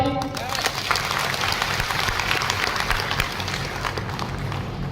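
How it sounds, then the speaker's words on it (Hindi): A seminar audience claps together at the presenter's prompt, a dense, even roar of many hands lasting several seconds without anyone speaking. "एक बार ठोक दीजिए ताली"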